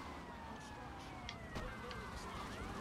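A police car siren in GTA Vice City wails steadily in the game's audio, mixed with continuous engine and street noise and a few brief clicks.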